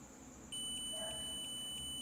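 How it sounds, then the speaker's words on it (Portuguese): A multimeter gives a continuity beep while testing a dual MOSFET on a workbench: a steady, high, thin electronic tone starts abruptly and holds, fairly faint over a quiet room. "e vai bipar. Presta atenção. Olha o bip."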